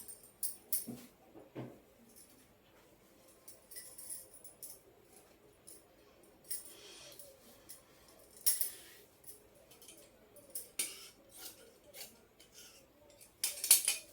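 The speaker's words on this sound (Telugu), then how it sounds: "ఇప్పుడు షేప్ బెల్ట్ కట్ చేసుకుందాం" Scissors snipping through blouse fabric to cut a shape belt, a string of soft, close, irregular cuts and rustles with quiet gaps between them.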